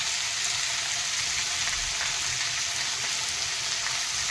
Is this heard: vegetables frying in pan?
yes